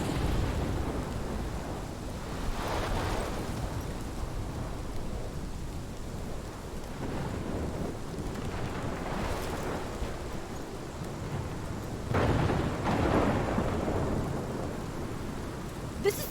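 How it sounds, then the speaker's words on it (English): Steady heavy rain beats down through a thunderstorm in Life is Strange, and several deep rolls of thunder swell out of the downpour. No voices are heard. "This is my storm."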